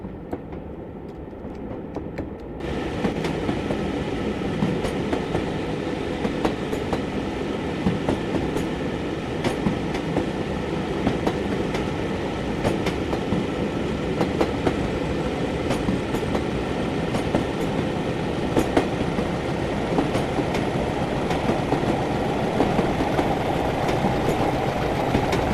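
Simulated AP Mk1 train running in Train Simulator 2020, a steady loud rolling rumble with a dense rattle of clicks and wheel-on-rail clatter, broadband and continuous after a quiet opening few seconds.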